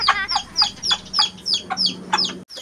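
Chickens being fed give a steady string of sharp, repeated clucks, about a dozen in quick succession at close range, with a brief dropout near the end.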